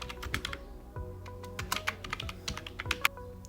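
Rapid clattering keystrokes on a computer keyboard while a writing prompt is entered, an uneven run of close, crisp clicks with no voices.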